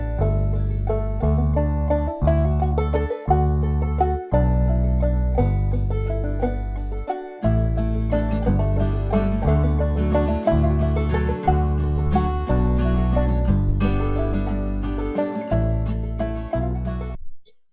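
A MIDI bass line on a software instrument, with every note at about the same velocity and volume. The low, evenly weighted notes follow in a steady stepping rhythm and sit alone and close for the whole passage, with no talking.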